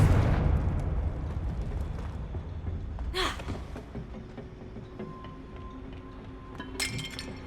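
A Confringo blasting curse in Hogwarts Legacy bursts with a sudden crackling, glassy explosion over a low rumbling background, followed later by a fainter second crackle.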